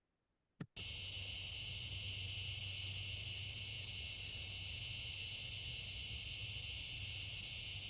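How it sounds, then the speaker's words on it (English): Cicadas sing in a dense, steady, high-pitched buzz that starts abruptly after a brief click and then holds loud and unbroken, alone with no voices. "The cicadas are singing their agreement."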